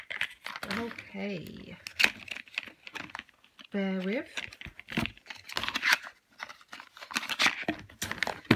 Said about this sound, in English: Sorry for the noise. I'm trying to get this out of packaging.